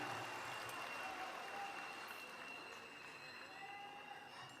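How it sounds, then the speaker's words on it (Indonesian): An audience claps steadily in a large hall at a Surabaya political rally, a broad, even wash of applause that holds for several seconds before easing slightly, with faint voices underneath. "Boleh beri tepuk tangan untuk mereka yang bekerja mempersiapkan tadi"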